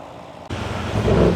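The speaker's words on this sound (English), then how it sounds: "You can hear the traffic coming by." A car sweeps past on the road beside a roadside yard sale in Pikeville, Tennessee, its rumble rising suddenly from a quiet background and swelling louder as it approaches close by.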